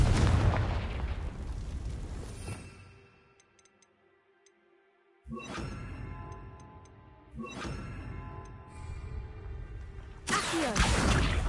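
Spell blasts in Hogwarts Legacy: several broadband bursts, loud and sudden, each followed by a tonal magical ring that fades, with near-silent gaps between them and a final loud burst at the end.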